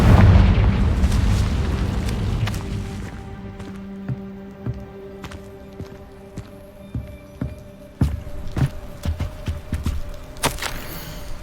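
A Confringo fire spell bursting in Hogwarts Legacy, a loud booming blast that rolls and decays, followed by scattered impacts, pops and footsteps.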